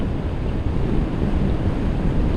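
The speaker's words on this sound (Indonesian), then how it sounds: "Ini anginnya lumayan kenceng ya." Strong wind buffeting a motorbike rider wearing a full-face helmet on a road toward Banjarnegara, a steady loud low roar with no speech.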